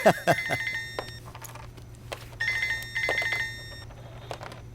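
A phone ringing in a Hindi-dubbed film scene, with bursts of bright, trilling electronic ring tones repeating in two rounds over a low steady hum and some faint background sound.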